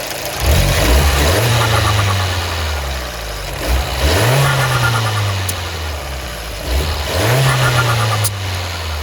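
Car engine with a Forge blow-off valve revved three times in a driveway, each throttle blip rising and falling close by over a steady idle, with only a faint, barely audible venting hiss afterward.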